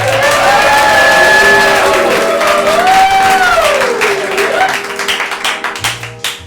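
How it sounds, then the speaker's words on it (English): A live improv comedy show audience in St. Pete bursts into loud applause with cheering and rising whoops, then the clapping thins into scattered claps at the end. "Give them a round of applause."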